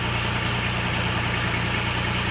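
A steady, low boat engine idles continuously at close range, a constant even rumble with no other sounds.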